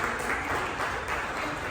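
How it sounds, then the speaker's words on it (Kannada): Showroom staff at a Nexa car dealership applaud an arriving guest, a dense, continuous patter of many hands clapping together, moderately loud throughout. "ಒಂದು ಜೋರಾದ ಚಪ್ಪಾಳೆ ಬರಲಿ."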